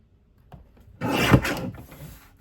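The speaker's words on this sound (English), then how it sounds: "Trim off the edge." A blade slices along the edge of a 12 by 12 paper page during scrapbook page trimming, a close, dry rasping cut lasting about a second and a half, preceded by a faint click.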